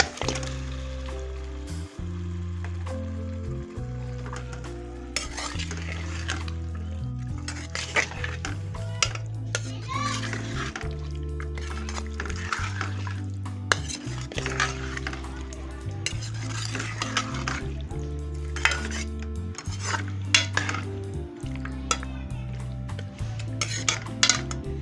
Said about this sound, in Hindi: बीफ की बुनाई हो रही है